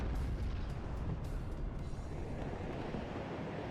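Artillery firing in the WARNO wartime strategy game, a steady rumbling barrage of booms and distant blasts layered into a continuous roar, with a few sharper shots cutting through early on.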